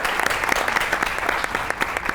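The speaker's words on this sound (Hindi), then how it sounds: "मस्त ताली" Studio audience applause on a comedy talk show, sustained close clapping with distinct individual claps popping out of the steady wash, heard alone without talk.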